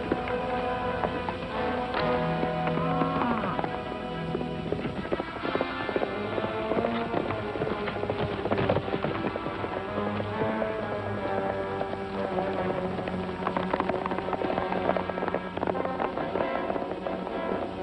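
Horses gallop with quick, continuous hoofbeats under a busy orchestral film score, the pounding rhythm steady and fairly loud across the whole stretch.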